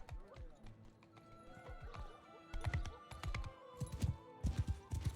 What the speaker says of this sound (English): Can I ride one of these horses?